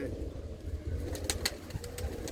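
Domestic pigeons kept by a Punjabi fancier coo in low, steady throaty murmurs close by, punctuated by a few sharp flutters or clicks.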